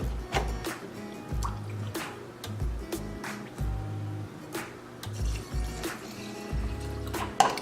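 Distilled water pours and splashes into a glass mason jar holding rice in uneven gurgling bursts, with small drips and clinks between the pours.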